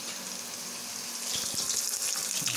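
Cooking oil pops and sizzles in a small wok while eggs are prepared for balado. A close, steady hiss thickens partway through and is dotted with sharp little spatters.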